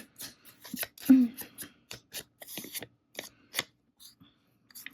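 Scissors make a run of quick, crisp snips while cutting material for a junk journal, close up, with soft speech at moments between the cuts.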